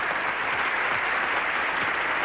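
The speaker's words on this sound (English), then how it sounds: "would you join me in a round of applause to John Anderson and Lynn Mann" A studio audience at a 1976 television game show bursts into applause, a dense, even wash of clapping that stays loud and steady from start to finish with no voices on top.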